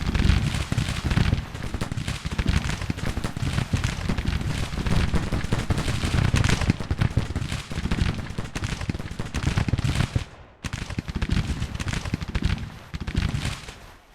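Massed musket fire in a Civil War battle game, a dense ragged crackle of many shots overlapping in loud continuous volleys with a brief pause near the end before firing resumes.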